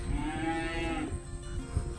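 A cow moos loudly and close by in a flooded field during heavy rain, one long drawn-out low call that trails off.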